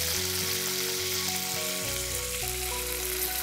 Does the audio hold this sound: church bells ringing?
no